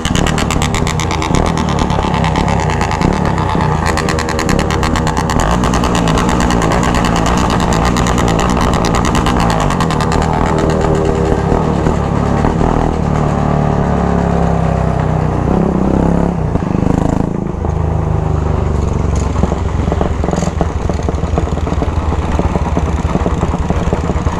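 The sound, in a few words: motorcycle engines revving during a group ride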